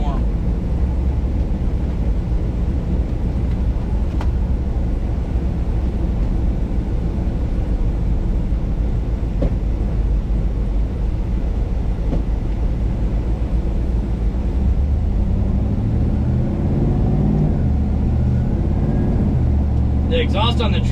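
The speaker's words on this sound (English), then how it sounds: "The exhaust on the truck is a custom 3-inch exhaust off the headers with a Borla XS muffler." A 1990 Chevy truck with headers, a custom 3-inch exhaust and a Borla XS muffler drives along on a hot day, its steady low engine rumble and road drone continuous throughout, rising slightly in pitch near the end.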